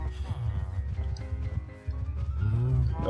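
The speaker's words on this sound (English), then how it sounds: "I didn't realize I had so many cows." Cows in the Minecraft video game moo several times in drawn-out calls over a steady game background, with a lower bellow near the end.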